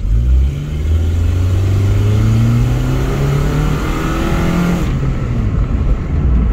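A car engine revs and accelerates hard, its pitch climbing through rising sweeps, loud and close, with a rough, raspy exhaust leak adding extra noise before the engine backs off near the end.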